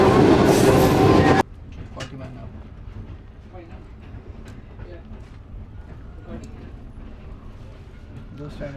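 A train rushing past at speed on the Shalimar Express route in Pakistan, a brief loud roar and wind burst that cuts off abruptly, followed by a lower rumbling carriage interior with faint rattles and some talk.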